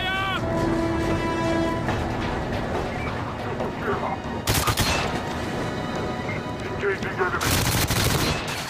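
Rapid gunfire from GoldenEye 007 on the Wii, set in Severnaya's outpost, with dense bursts and loud volleys around the middle and end, mixed with game music and voices talking over it.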